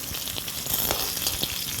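Pointed gourd frying in a small amount of oil gives a soft, steady sizzle up close, with light spatters and faint stirring taps over a brief moment.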